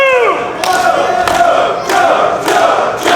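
Arena crowd at a Ring of Honor pro wrestling match rising in a loud, sustained roar and chants of support for the champion, with rhythmic swells and a few thuds in the mix.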